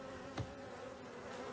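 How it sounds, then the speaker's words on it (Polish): Bees buzz as they fly to the hive, a faint, steady insect hum with one brief swell as a bee passes close. "pszczółki lecą do ula"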